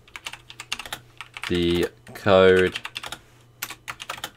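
Quick clicking keystrokes on a computer keyboard, typed in short runs, with two brief vocal sounds in the middle of the typing.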